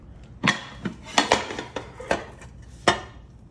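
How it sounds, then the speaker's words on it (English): A dessert being flipped onto a plate brings several sharp clanks and clatters of dishes and utensils, irregular, close and loud against a quiet room. "Now it's time to perfectly flip it over without making a mess."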